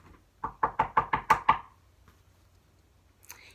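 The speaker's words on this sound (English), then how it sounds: "Then one evening a loud knock startled Bunny." Six crisp knocks rap on a wooden door in a quick, even series, close and fairly loud, followed by quiet.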